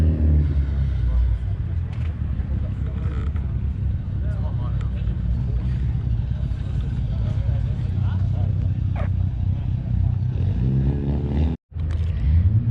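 An RB30-powered car rumbles steadily at a car meet, a loud, close, low idle that holds throughout, with faint voices around it and a short dropout near the end.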